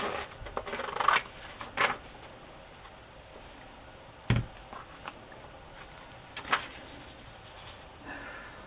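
Scissors cut paper for a collage in a few separate quiet snips and rustles, with pauses between each cut.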